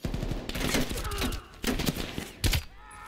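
Gunfire from the video game Call of Duty Black Ops Cold War, a few sharp bursts of shots spread over a few seconds, with a voice speaking between them.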